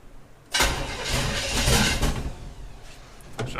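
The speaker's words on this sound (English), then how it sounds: "I need you to fire it up while I mess with all this to try and keep it running." A 1951 Chevy truck engine cranks and catches after a quiet moment, then roars loudly and close, running rough and uneven for a few seconds.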